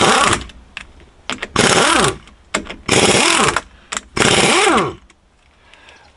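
An impact wrench drives a socket on an old T2a in loud bursts of about a second each, separated by brief pauses. Each burst carries a rapid rattling hammer and a whine that rises and falls.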